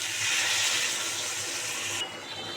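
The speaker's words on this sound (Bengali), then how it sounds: "এবার পরিমাণ মতো একটু জল দেব" Water pours into a pan of dumur (fig) dalna curry as a steady gushing stream for about two seconds, then stops, leaving a quieter hiss.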